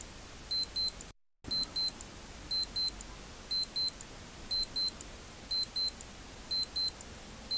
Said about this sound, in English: The self-timer starts when the shutter release is pressed.